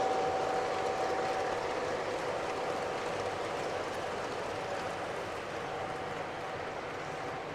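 An O gauge model train runs through a modular hobby layout, a steady unbroken rolling rumble and hiss that fades only slightly over several seconds, with no voices.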